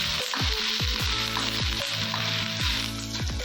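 Garlic and ginger fry in a pan with a loud, constant sizzle, close to the ear, and repeated stirring scrapes that come in a regular rhythm.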